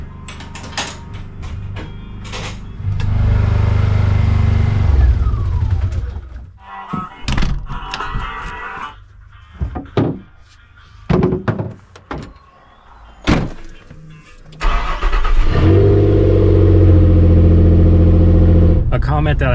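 A truck's engine rumbles steadily as it sets off from a cabin in the woods on a firewood haul, broken by clunks and knocks like doors, with loud stretches of engine noise at the start and end.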